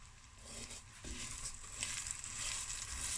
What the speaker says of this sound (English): And the butter and the heat will fry the vermicelli and change color.